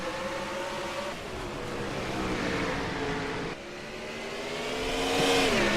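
Race cars in the ISCR Canadian Series Bumper To Bumper 300 at Riverside, a racing video game, accelerate together at a green-flag restart, engines droning steadily and rising in pitch, with a louder surge near the end.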